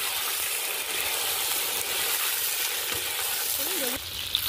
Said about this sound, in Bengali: বেগুনগুলো আমি এরকমভাবে চাপটা দিয়ে ভালো করে ভেজে নেব